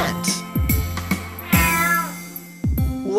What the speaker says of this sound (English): A cat.